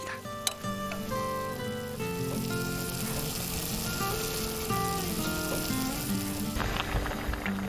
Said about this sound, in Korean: 고추, 마늘 넣고 간장에 지글지글 졸여내면